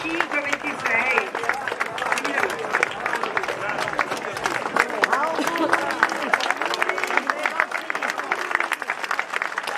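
Audience applause after a long-married couple is introduced on stage at an Italian show, a dense, steady wash of many hands clapping for about ten seconds with crowd murmur mixed in.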